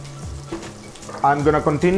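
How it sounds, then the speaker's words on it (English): Bacon sizzles and crackles in a pan with a steady frying hiss, while a person talks over it. "So I got my bacon working over here, as you see, like very nice."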